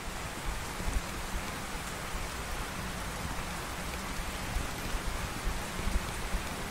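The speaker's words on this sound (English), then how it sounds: "And it's just raining on me." Rain pours steadily over a lone angler in the fishing game Russian Fishing 4, a dense even hiss of drops with light pattering, no voices.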